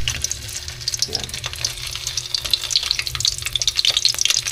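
Onion, garlic and tomato frying in a pan for Filipino pinakbet, a steady crackling sizzle with occasional stirring clinks, close and continuous throughout.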